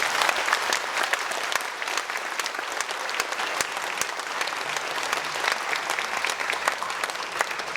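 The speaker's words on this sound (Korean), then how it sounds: "우리 큰 박수로 환영하도록 하겠습니다" A large church congregation claps steadily and loudly to welcome a pastor, a dense, continuous patter of hands that holds evenly throughout without any speech.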